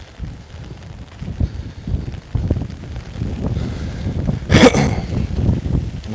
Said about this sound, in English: The wind's picking up, a little gust going down right now.